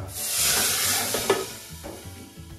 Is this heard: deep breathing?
no